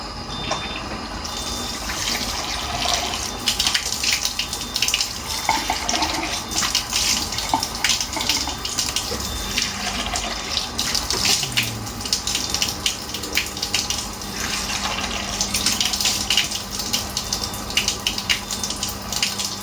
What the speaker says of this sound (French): J'allume ma machine, je mets la position eau de beauté, beauty water. Hop, je fais couler.